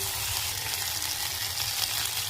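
Ginger garlic paste for khichdi sizzles and crackles steadily in a hot pan while being stirred, a dense, close frying hiss with no talk.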